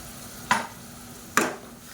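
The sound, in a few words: blended tomato paste added to a frying kuska masala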